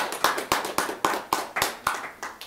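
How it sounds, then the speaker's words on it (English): A small audience gives a round of applause, with a handful of distinct, rhythmic claps about every half second, close and fairly loud. "Round of applause."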